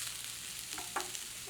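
Spiralized broccoli noodles fry in a pan with lemon and garlic, giving a soft steady sizzle broken by a few brief scraping stirs, close and alone.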